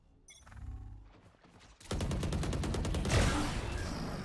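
Operator sniper rifle firing in Valorant during a collegiate match, quiet game sounds first, then a sudden loud burst followed by a rapid string of sharp gunfire cracks.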